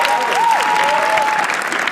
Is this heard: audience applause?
yes